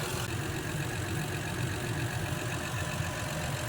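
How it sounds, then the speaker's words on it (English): A 2015 Honda Pilot engine idles steadily throughout after an alternator replacement, a low rumbling drone with a faint mechanical whir on top, close by and unchanging. "the engine is up and running right now"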